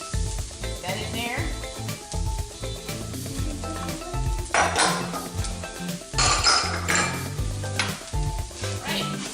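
Red cabbage and garlic sizzle in a pan as they are stirred and tossed, a steady frying crackle with clinks of a utensil against the pan, loud and close, with a brief spoken remark.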